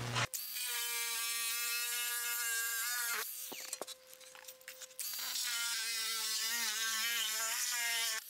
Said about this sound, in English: Once you use one of these cordless shears, you'll never go back.